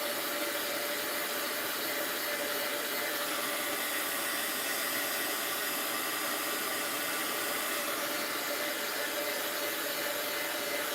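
A heat gun blows in a steady, continuous hiss and whir as it melts wax crayons, constant in level throughout with no talking.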